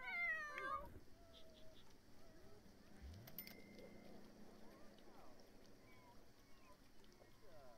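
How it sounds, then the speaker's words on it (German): A cat meows briefly in The Sims 4, a rising game-sound cry near the start over game music and ambient effects, with a voice speaking. "Was bist du für eine Katze?"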